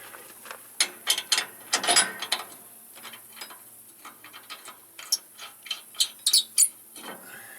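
A hand ratchet tightening a loose belt on a MacDon 5000 haybine during service work, giving close, crisp clicking strokes in short bursts with brief pauses, loud and without talking.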